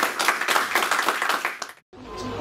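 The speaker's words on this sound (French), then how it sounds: "On va applaudir à nouveau." An audience at a French lecture applauds after the talk ends, a brisk clatter of many hands that stops abruptly, followed by a faint quiet room tone.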